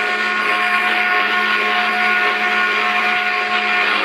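A wobbly ceiling fan fitted with makeshift parts in place of its blades runs steadily and loudly, giving a continuous whirring, grinding drone with a constant motor hum and no talk.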